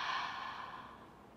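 A single slow, throat-constricted Ujjayi yoga inhale during a vinyasa breathing practice, heard as a soft, steady breathy hiss lasting over a second that gradually fades, close to the microphone and quiet.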